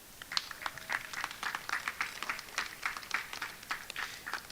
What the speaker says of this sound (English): So if we can have a applause for David Puente.